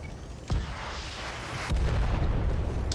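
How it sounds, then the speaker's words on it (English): A BMP armoured vehicle fires rockets in the tank game World of Tanks, producing two sharp booming impacts about a second apart over a constant loud rumble of battle noise. "BMP trying to shoot rockets at me."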